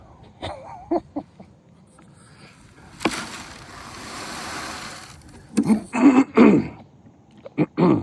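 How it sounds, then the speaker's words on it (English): Someone clears their throat a few times close up, with a rough burst of noise in the middle and more throaty sounds toward the end. "Clearing my throat."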